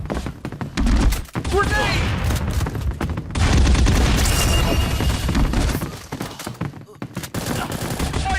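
Explosions and rapid gunfire from the mobile shooter game Bullet Angel, with loud booms and bursts of automatic fire throughout a dense, chaotic battle mix, plus game voices and effects layered over it.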